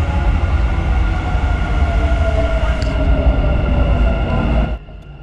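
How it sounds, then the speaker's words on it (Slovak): Dubai Metro train running on the line toward Centrepoint: a steady, loud rumble and rolling hum with a faint whine, continuous for several seconds before dropping away sharply near the end. "The train to Center Point."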